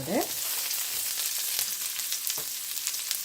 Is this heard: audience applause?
no